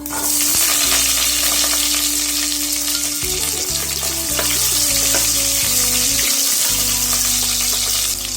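Shallots, green chillies and curry leaves sauté in hot oil with urad dal for a green gram rice dish, a loud steady sizzle with a low tonal hum and scraping stirs throughout, no voices.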